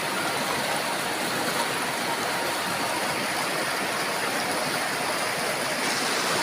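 Steady broadband rush of the flowing Cilongan river in a rural village, continuous and fairly loud, with no voices or other sounds breaking through.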